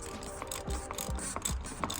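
Ratchet tightening a 27 mm oil filter housing on a Mercedes GLB 250, rhythmic clicking strokes a few times per second, close and fairly quiet, with no talk.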